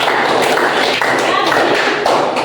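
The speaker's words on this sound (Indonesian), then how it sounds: "Mari kita tepuk tangan untuk Sensi." Schoolchildren in a Catholic religious education class clap together for a classmate, a brisk, close burst of uneven hand claps and taps filling the short moment.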